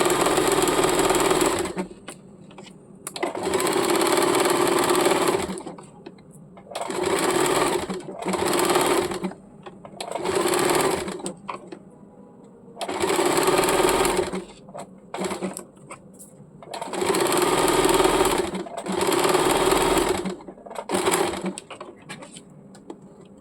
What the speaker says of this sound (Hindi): नीचे का जो घेरा है उसका सिर्फ ऊपरी हिस्से में ही हम लोग मशीन चलाएंगे